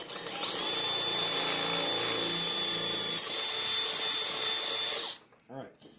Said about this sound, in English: Last drill bit size we're going to be using is a 1332nds, which is pretty massive